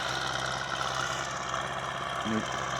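An MTZ-80 tractor on rubber tires pulling a plow in a field, its diesel engine droning steadily and close throughout, with a brief louder knock near the end and a voice speaking over it.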